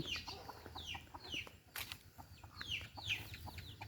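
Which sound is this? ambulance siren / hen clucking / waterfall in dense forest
hen clucking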